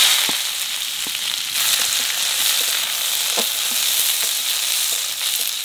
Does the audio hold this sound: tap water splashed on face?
no